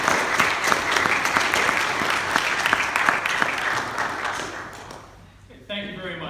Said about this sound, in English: please join me in a nice round of applause to welcome Kevin to the stage